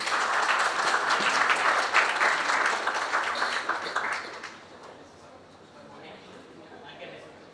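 An audience at an AWS data talk on Zero-ETL claps loudly and steadily during a felicitation, then the applause thins out and fades to a quiet room.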